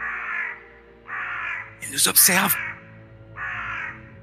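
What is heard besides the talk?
crows cawing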